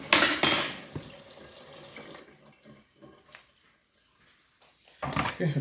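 Water runs from a kitchen tap as a pot is washed, with dishes and cutlery clinking; strong splashing bursts at the start, quieter intermittent rinsing in the middle, and a renewed loud gush at the end.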